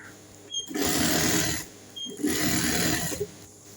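A sewing machine runs top stitching on a baby frock in two steady bursts of rapid, close mechanical whirring, separated by a short pause, with no voices.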